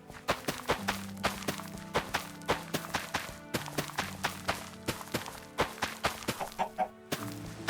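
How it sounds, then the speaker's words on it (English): Chickens in Minecraft cluck repeatedly amid rapid, rhythmic in-game footsteps, with sounds close and moderately loud alongside a steady musical tone. "Evil chicken, leave, please."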